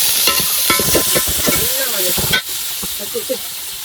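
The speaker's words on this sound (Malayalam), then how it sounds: "ഒരു 5 വലിയ ഉള്ളി എടുത്തിനെ നേർങ്ങനെ അരിഞ്ഞത് നമുക്ക് എണ്ണയിലിട്ടിട്ട് നല്ലോണം വാട്ടി വെക്കാം." Five large thinly sliced onions sauté in hot oil for a vegetable biryani, giving a steady close sizzle and hiss with stirring scrapes; a faint voice-like murmur sits underneath before the sound drops slightly softer.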